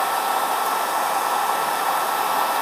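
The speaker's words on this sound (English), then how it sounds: "grab onto the hair dryer" A hair dryer blows continuously at close range, a loud, steady whooshing hum with no pauses.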